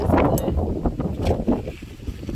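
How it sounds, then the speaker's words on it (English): Gusty wind buffeting the microphone outdoors, a loud low rumble rising and falling in waves with no talking. "Very windy, pretty mild."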